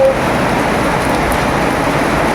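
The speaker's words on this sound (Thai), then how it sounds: "ฝนตก ฝนตกไหมคุณ" Steady rain falls in Thailand, a dense, even hiss of drops on surfaces that stays close and constant throughout, with no voices.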